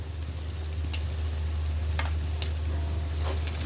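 Loitta fish and shrimp being stirred with salt as they fry, a low steady sizzle under a constant hum, with a few faint clicks of a spatula.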